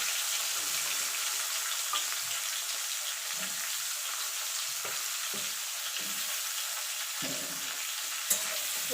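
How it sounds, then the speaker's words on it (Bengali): Bitter gourd rubbed with salt and turmeric fries in hot oil in a pan, a steady dense sizzle with occasional stirring clatters and a sharp knock near the end. "এবার উচ্ছেটাকে একটুখানি ভাজা ভাজা করে নেব।"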